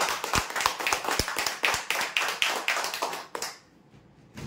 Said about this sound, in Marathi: जोरदार टाळ्या होत्या यासाठी।